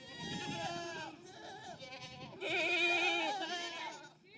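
Meat goats and a pygmy goat bleat loudly in wavering, nasal cries, several overlapping calls close by with a louder, higher bleat near the end.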